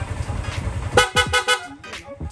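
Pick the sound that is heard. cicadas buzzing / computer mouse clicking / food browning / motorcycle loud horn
motorcycle loud horn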